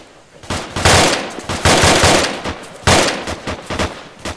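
Rapid automatic gunfire and single shots crackle loudly in a military realism video game, coming in dense repeated bursts with brief gaps and no talk over them.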